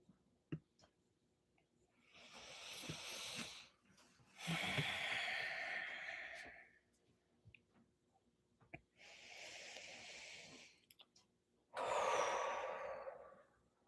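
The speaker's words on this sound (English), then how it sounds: "Now just breathe." Slow, deep breathing during a calming relaxation exercise: long soft inhales and exhales in an unhurried rhythm, heard close and quiet with brief silent pauses between breaths.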